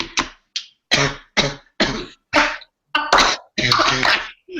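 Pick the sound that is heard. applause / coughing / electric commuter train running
coughing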